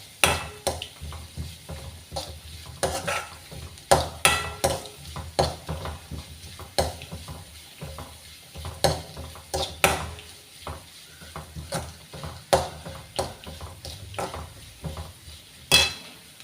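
Onions and green chillies being stirred and sautéed in a pan for a spinach and egg thoran. Irregular scraping and clinks of a utensil against the pan sound close over a soft steady sizzle, with no voices.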